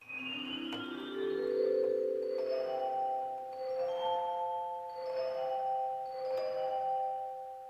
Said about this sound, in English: There's also a sound called Carillons that the organ does.